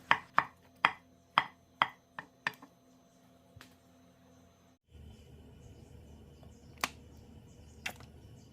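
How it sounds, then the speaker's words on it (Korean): Knife slicing two shiitake mushrooms on a board: six or seven quick, crisp chops in a steady rhythm, then a few isolated taps, followed by a louder, noisier stretch with two more sharp knocks. "표고버섯 두 개는 앞뒤로 살살살살 문질러서 먼지를 떨어주고 잘 닦아서 꼭 짜줍니다. 송송송 썰어줍니다."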